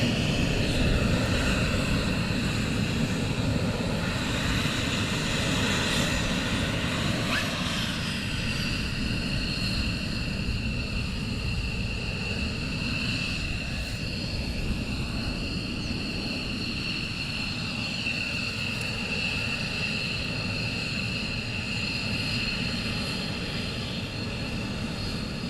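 Steady, distant roar of military jet aircraft at RAF Lakenheath during a morning surge launch, a broad continuous rumble holding level throughout with no voices.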